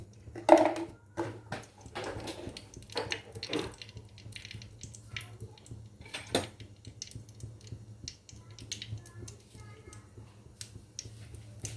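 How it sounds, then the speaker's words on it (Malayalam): Mustard seeds spluttering in two or three spoons of hot sunflower oil for mango pickle, scattered sharp pops and crackles at irregular intervals, fairly close but quiet over a low hum, with no talking. "കടുക് പൊട്ടി വന്നതിന് ശേഷം"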